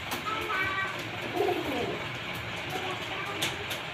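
A long, slender racing pigeon of mayoret and sutra lineage coos softly in a loft, its low murmurs surfacing through steady background noise while someone talks nearby.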